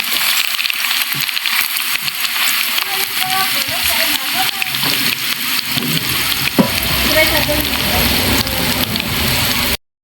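Water poured into a pan of siomai being sautéed, with loud, steady frying sizzle and spattering throughout, plus some stirring clatter and scattered speech-like sounds nearby.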